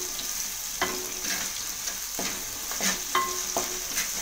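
Masala for a fish curry sizzles steadily in a pan while a utensil stirs it, with sharp scrapes and clicks arriving every half second or so over the continuous frying hiss.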